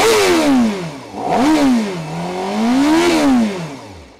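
A 2020 Honda CBR 1000 RR-R Fireblade SP superbike engine with stock exhaust revs hard, pitch swooping down, then climbing and falling again in two loud throttle blips, close by with no talking.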